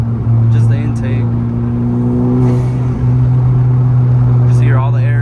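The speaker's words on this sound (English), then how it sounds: "Just hear all the air sucking in, doing all that good shit" 10th gen Honda Civic Si engine humming steadily from inside the car with a faint airy whoosh of intake, while someone talks over it.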